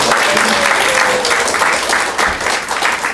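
A church congregation at a Sunday service applauds together, a dense and steady burst of clapping that fills the room from start to finish.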